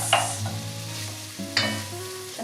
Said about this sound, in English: And now we add the carrots.